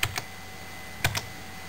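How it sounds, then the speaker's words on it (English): Keys on an Apple II Europlus computer keyboard are pressed in two pairs of sharp clicks, one pair at the start and one a second later, over a faint steady hum. "restart the computer by typing in number 6 and press return"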